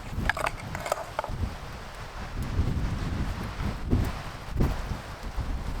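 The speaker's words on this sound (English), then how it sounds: "it's a very windy day, as I've mentioned." Gusty wind buffeting outdoors in the Canadian wilderness, rushing and rumbling in uneven bursts with some rustling, loud and close, no talking.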